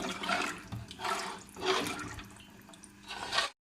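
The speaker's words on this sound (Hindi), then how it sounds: "ये स्टॉक सारा हम इसमें डाल देंगे।" Stock for paya is poured into a cooking pot, making a loud, continuous liquid splash and gush that swells in waves before it stops abruptly.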